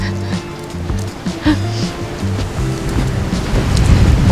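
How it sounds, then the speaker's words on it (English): Cold wind gusting across a steelhead fishing spot, a steady blustery rumble buffeting the microphone that swells louder toward the end, with faint water movement beneath. "Oh yeah, it's windy."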